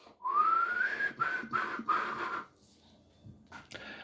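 A person whistles a short rising, wavering tune close by, in a few phrases lasting about two seconds, followed by faint breathy sounds and quiet handling.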